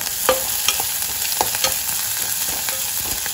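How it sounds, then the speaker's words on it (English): Pounded ginger, garlic and green chilies frying in a pan for Goan potato bhaji while being stirred, a steady close sizzle broken by repeated scraping spoon strokes, with no talking. "add in the ginger, garlic which is pounded and the green chilies and give it a good stir"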